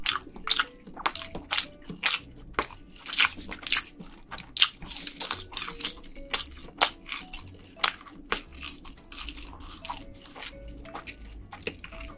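Close-up eating of crab stick and real red snow crab meat, a series of loud, crisp bites and wet squishy chewing sounds spaced irregularly, with no speech.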